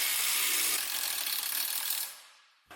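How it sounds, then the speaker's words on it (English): A 17mm socket wrench loosens the lower shock-to-control-arm bolt on an Acura MDX, a loud, close, rapid ratcheting buzz that runs steadily and then cuts off, with a brief knock at the end. "Now we have the 17mm socket, and we're loosening the lower bolt connecting the shock to the lower control arm."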